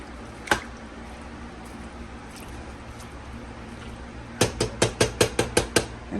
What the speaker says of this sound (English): Stir it all up, just like that.